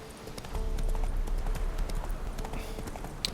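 Steady clip-clop of horse hooves at a riding pace in The Witcher 3 video game, over a continuous low rumble, moderately loud and rhythmic.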